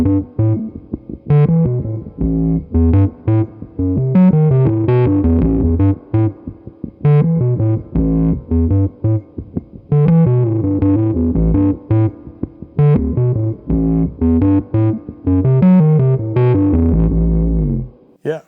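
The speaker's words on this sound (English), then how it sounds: "So if I completely take out the dry signal and I just have the octave down, it will sound like this." Electric guitar through an octave-down pedal with the dry signal removed, giving a thick, low, fuzzy riff of rapid distorted notes that plays loud and steady throughout with no talking.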